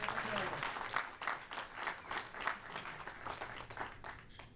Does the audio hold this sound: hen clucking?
no